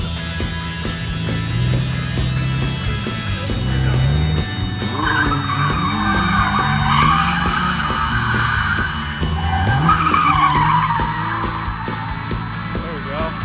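Nissan 350Z drifting at Summit Point, tires squealing in long skids over a droning engine heard from inside, with a voice speaking at points.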